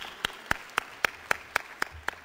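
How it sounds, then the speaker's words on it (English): Clapping at a housing coalition conference comes through as a steady train of evenly spaced, sharp claps, about four per second, clear and close over a quiet background. "can you just give yourselves a round of applause for being here today"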